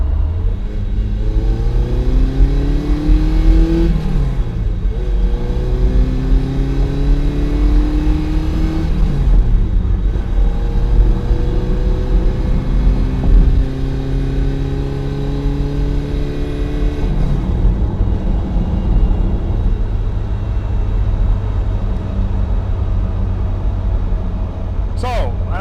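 A 1981 Ferrari 308 GTB with its carbureted engine, driving and revving through repeated gear changes, the rising and falling engine note loud and close from inside the car.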